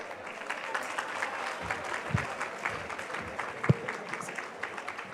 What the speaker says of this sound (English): give this man a round of applause